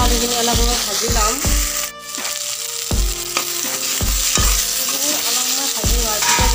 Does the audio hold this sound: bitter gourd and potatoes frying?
yes